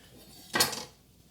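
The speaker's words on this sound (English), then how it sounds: "And then for this, we're just taking a serrated knife." A serrated knife slices through a crisp baked chocolate eclair shell in one short, close crunching cut, with quiet room ambience before and after.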